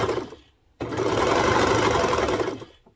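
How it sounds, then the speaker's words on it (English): A serger stitching the small cuff of a baby bodysuit, a short whir, a pause, then a steady loud mechanical buzz running for about two seconds before slowing to a stop, close up. "Then I'm going to put that underneath my serger"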